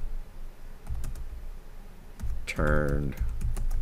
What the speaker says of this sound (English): You can merely come over here and just type the text if you want.